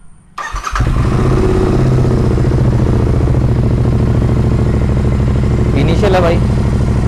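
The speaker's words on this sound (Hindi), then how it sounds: "अब हम आपको इसकी साउंड सुनाते हैं। इसकी आवाज़ थोड़ी आपको शायद अच्छी लगे।" A Royal Enfield Interceptor 650 fitted with PoweRage aftermarket exhausts fires up after a brief start, then settles into a loud, close, steady idle with a throbbing parallel-twin pulse and one short blip of throttle near the end.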